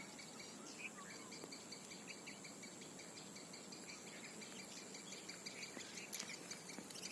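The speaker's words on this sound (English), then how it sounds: "you can hear the voices of different birds chirping around" Insects and birds in a nature park with small water bodies, a steady cricket-like drone with repeated high chirps and scattered bird calls throughout, faint and distant, no talking.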